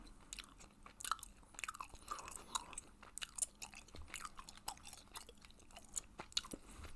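Hubba Bubba Strawberry Watermelon bubble gum is chewed close to the mic, giving quiet, wet, sticky smacks and clicks in an uneven rhythm against a near-silent background.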